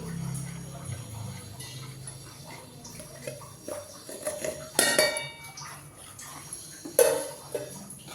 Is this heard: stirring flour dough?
yes